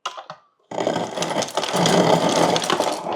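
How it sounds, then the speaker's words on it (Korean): An LG refrigerator's door dispenser crushes ice, a loud, close grinding and rattling burst that follows a short click and pause, then churns on continuously with gritty clatter as crushed ice drops out. "얼음이 막 갈려 나오죠?"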